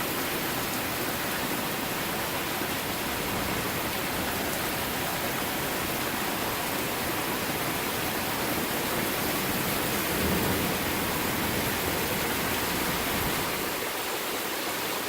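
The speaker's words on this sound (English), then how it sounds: "Look at the rain." Heavy rain pours steadily during a severe August thunderstorm in Newburg, Pennsylvania, a dense, unbroken roar that stays loud and even for the whole stretch with no voices.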